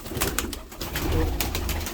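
Pigeons, including a pair of champion birds at a breeding setup, coo in a busy, noisy setting, their soft throaty calls blending with steady background clatter and hiss.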